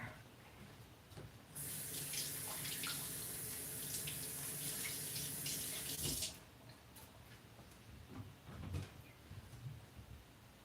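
Water runs from a tap into a jar during kitchen meal prep, a steady close gush lasting about five seconds, then quieter kitchen handling noises without talk.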